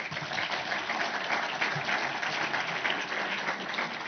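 A crowd claps steadily in sustained applause, a dense even patter that fills the whole stretch without a break.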